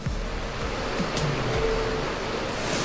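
A waterfall and river rapids inside a cave in Laos make a continuous, loud, rushing roar of churning water that fills the space without letting up.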